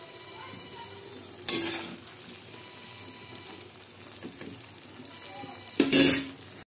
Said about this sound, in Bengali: আমার আলু কুমড়ো ভাজাটা বেশ ভালো মতনই হয়ে গেছে।